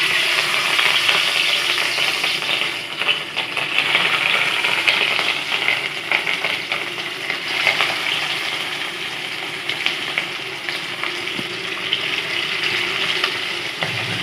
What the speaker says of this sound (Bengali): এখন মাছ ভাজা হচ্ছে, মাছের ঝাল হবে।